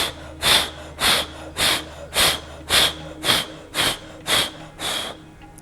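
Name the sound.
forceful exhale during yoga breathing exercise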